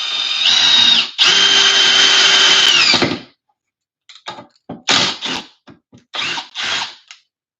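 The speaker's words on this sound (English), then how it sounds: "We're gonna get a little pilot hole drilled." A power drill bores a pilot hole for wood screws: a loud, close, sustained whine of about two seconds, then a series of short stop-start bursts, with no talk.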